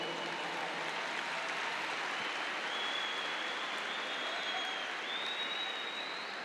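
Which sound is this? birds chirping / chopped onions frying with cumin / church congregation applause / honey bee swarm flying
church congregation applause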